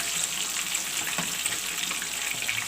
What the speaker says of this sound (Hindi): चलिए दूसरी साइड से भी फ्राई हो जाएगी